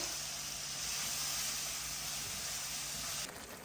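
Chicken spices frying in a pan, giving a steady, loud, broadband sizzling hiss that continues unbroken before easing slightly at the end.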